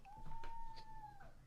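A cat's faint, drawn-out meow, rising and sliding down, is heard in the background of an indoor room with a low hum underneath.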